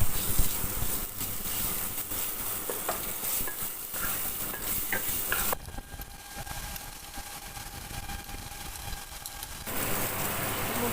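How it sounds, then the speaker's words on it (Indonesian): Spice paste sautéing in vegetable oil while being stirred for Indonesian spicy chicken semur, a steady broad sizzle with a few faint scraping clicks, close and continuous, dipping briefly midway. "Tumis bumbu sampai harum."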